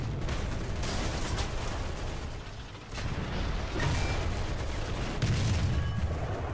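Gunfire rattles through a War Thunder tank battle from a Daimler AC Mk.II armoured car, with a Whirlwind firing nearby: a dense, continuous barrage of shots and booms that briefly eases before picking up again, loud and unbroken.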